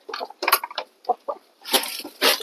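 Backyard hens cluck in short, close bursts, a few quick calls at first, then louder, denser clucking toward the end.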